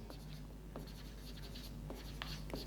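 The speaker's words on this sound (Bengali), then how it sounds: "তাহলে আমরা এখানে লিখব" Pen strokes scratch across paper in a quiet room, short bursts of writing with brief pauses, faint and close, over a low steady hum.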